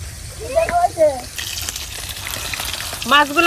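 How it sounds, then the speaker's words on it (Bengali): Carp frying in a wok hisses and bubbles steadily, with stirring scrapes and bursts of louder sizzle, while voices talk over it at moments. "মাছগুলো ভাজা হয়ে গেছে"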